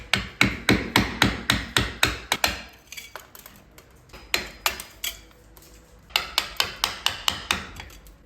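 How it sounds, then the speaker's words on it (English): A hammer strikes a chisel to cut wood out of a board during a budget DIY kitchen makeover, sharp close rhythmic taps in quick bursts of about ten blows with short pauses between runs. "I'm just going to get the chisel and the hammer to chisel this out"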